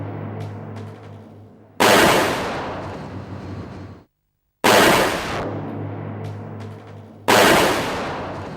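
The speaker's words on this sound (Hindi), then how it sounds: "सारी गोलियां निशाने पर लगी है।" Three loud, close gunshots ring out at shooting practice, spaced a few seconds apart, each with a long, echoing decay over a low background hum.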